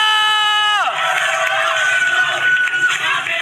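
A packed esports arena crowd at an MPL match roars and cheers in a loud, sustained wash, entering as a falling synth tone fades out, with a faint high tone running through the noise.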